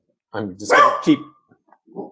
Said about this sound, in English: is that my dog or your dog?